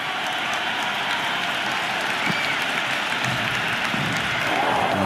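Crowd at an India versus Australia match in the Cricket 26 video game, with steady continuous applause and cheering from a large stadium audience at constant level, with no talking over it.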